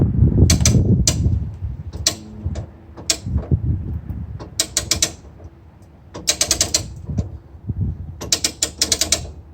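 Harbor Freight truck crane winch hauling a heavy load, sharp ratcheting clicks in quick bursts separated by pauses, loud and close, with some lower mechanical groans between the click runs.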